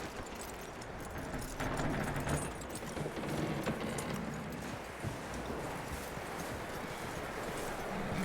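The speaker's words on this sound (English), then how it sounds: "That looks like a decent horse." Horse hooves clip-clop steadily in the video game Red Dead Redemption 2, a continuous walking rhythm of hoofbeats at moderate distance over ambient outdoor background noise.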